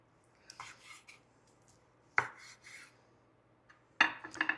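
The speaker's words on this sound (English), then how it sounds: "start slicing this in little slider pieces" A knife cuts cooked, tender garlic pork tenderloin into small slider pieces, giving three separate bursts of slicing and scraping on a board with quiet pauses between them and no talking.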